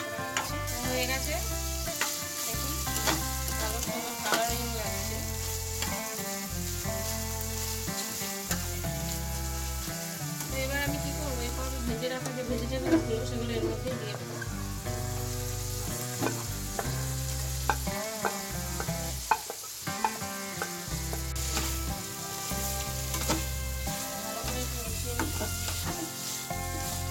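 Large prawns fry in a hot pan with a steady, close sizzle and crackle lasting throughout, alone, with no talking.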